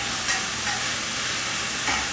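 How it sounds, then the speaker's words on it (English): Onion fries in a pan in a steady, close sizzle, with faint stirring touches now and then and no voices. "Now we're going to cook the onion first without adding in the garlic"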